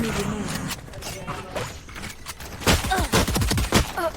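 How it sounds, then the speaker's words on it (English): Burst gunfire in the tactical shooter Valorant, a few quick clusters of sharp shots late in the clip, mixed with game effects and footsteps at moderate loudness. "apparently the burst fire is too strong to survive"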